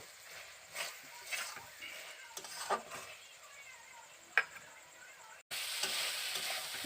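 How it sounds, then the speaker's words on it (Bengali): Fried soybean chunks are stirred into a spice paste in a pan, soft sizzling with intermittent scraping spatula strokes, close but fairly quiet, then a louder continuous sizzle toward the end. "সয়াবিন দানাগুলো দিয়ে দিয়েছি এবার ভালো করে আমি কষিয়ে নেব"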